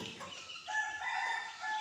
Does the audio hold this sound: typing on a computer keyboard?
no